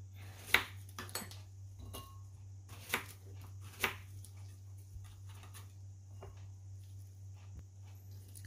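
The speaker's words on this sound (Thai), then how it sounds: "เราก็จะหั่นชิ้นเล็กหน่อยนะคะไม่หั่นชิ้นใหญ่มาก" A knife chops half a large persimmon into small pieces on a board, a few sharp irregular cutting taps standing out over a steady low hum, with no talking.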